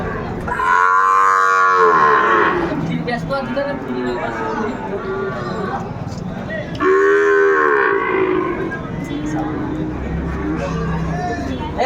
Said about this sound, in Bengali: ভাই আমরা দেখছিলাম এখানে সুন্দর সুন্দর গরু গরুগুলা কালেকশন করছে শাহাদত ভাই